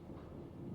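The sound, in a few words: moving train car in video game Post Trauma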